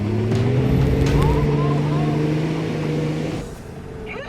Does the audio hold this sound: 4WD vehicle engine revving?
yes